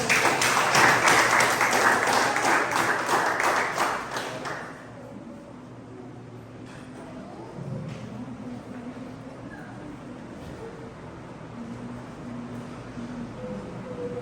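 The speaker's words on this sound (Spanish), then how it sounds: "Denle un aplauso al Padre por eso." Church congregation bursts into dense applause that lasts about four and a half seconds and then stops abruptly, leaving quiet room tone with faint murmurs and a brief voice.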